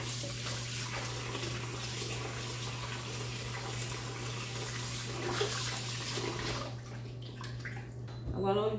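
Chicken drumsticks being washed in a kitchen sink with vinegar and water for Jamaican country-style chicken: steady, close running tap water for most of the clip, then thinning out near the end.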